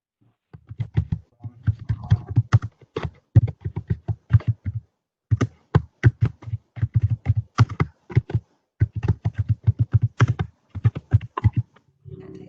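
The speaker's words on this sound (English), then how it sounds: "Yeah, that was Matt typing" Bursts of keyboard typing, quick clustered key taps with short pauses between runs, close and clear with no voices.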